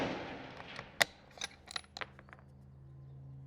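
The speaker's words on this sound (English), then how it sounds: "now I'm gonna shoot these over on the left on 2 different aiming points" A rifle at a shooting range: the tail of a loud report fades away, then one sharp crack follows with several small metallic clinks and ticks trailing off into quiet.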